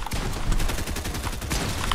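Rapid bursts of gunfire crackle through a Fortnite 2v2 zone-wars match, dense overlapping shots filling the whole short stretch, loud and close with no talk.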